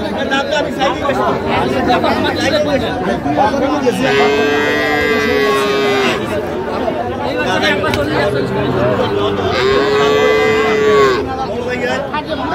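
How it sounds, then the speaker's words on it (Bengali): A bull calf moos twice in long, drawn-out calls, with steady crowd chatter and market bustle throughout. "ষাঁড় বাচ্চা"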